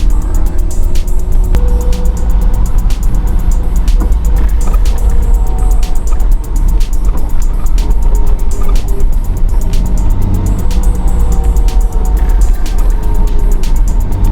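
A Datsun 280ZX driving slowly on a steering test drive, its engine giving a steady loud in-cabin drone with road rumble and faint ticking throughout; no talk.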